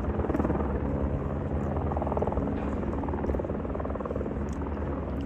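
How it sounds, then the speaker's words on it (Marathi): Helicopter landing at the Kedarnath helipad, a steady whirring rotor and engine drone that holds evenly throughout at moderate distance, with no clear speech over it. "इथे हेलिकॉप्टर लँड होता."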